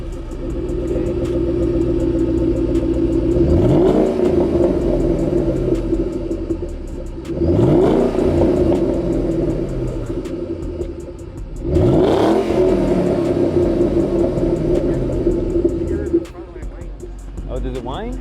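A Ford Mustang Shelby GT500 engine revs three times over a steady idle, each rise climbing sharply then falling back, with a slight whine audible; voices talk faintly beneath the engine.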